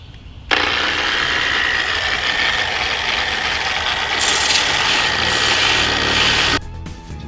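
A sander grinds rust off a car body, a loud continuous abrasive whir that starts abruptly, shifts pitch partway through and stops near the end.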